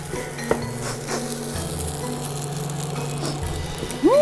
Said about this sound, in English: So you're going to mix up the egg a little bit. And when it's almost done, you can mix in the rice.